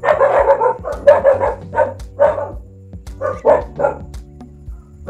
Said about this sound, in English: I hope you can forgive my dogs.